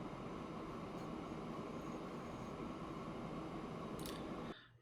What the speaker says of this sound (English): I'm gonna let the train leave right now